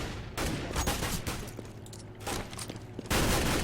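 Gunfire rattles through a Counter-Strike: Global Offensive match, rapid bursts of automatic shots crackling in steady runs, ending on a louder volley.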